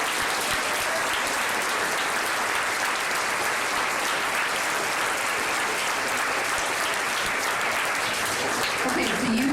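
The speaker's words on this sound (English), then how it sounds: "how about a big round of applause?" Applause from a classroom audience in a government class, dense steady clapping that fills the whole stretch without letup, with faint voices mixed in.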